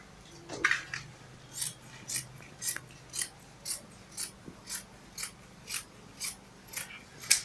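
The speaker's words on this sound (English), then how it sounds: "Then I'm going to cut it like this." Scissors snip through fabric being cut for a kaftan with a keyhole neckline, a steady train of about a dozen crisp, evenly spaced cuts, close and fairly quiet, with no talking.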